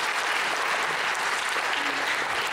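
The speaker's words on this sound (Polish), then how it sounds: "także wielkie brawo." An audience at a summer concert gives steady, dense applause, a continuous wash of clapping that holds at an even level from start to finish.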